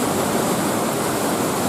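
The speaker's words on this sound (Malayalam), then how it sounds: "വെള്ളം നിലത്തേക്ക് പതിക്കുന്ന കാഴ്ചകൾ കാണാൻ വന്നിരിക്കുകയാണ്" Marmala Aruvi waterfall, with water plunging to the ground: a loud, unbroken roaring rush filling the whole moment, steady and close.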